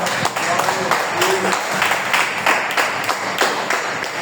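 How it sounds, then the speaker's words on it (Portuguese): A church congregation applauds in praise during worship, a steady, dense patter of clapping filling the room at fairly close range without pause. "Você pode aplaudir ao Senhor?"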